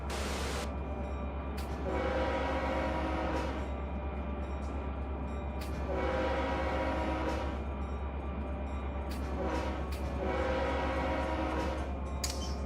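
A Norfolk Southern freight train in the Run 8 simulator rumbles steadily while its horn sounds in several repeated blasts, a continuous low drone under recurring horn pulses.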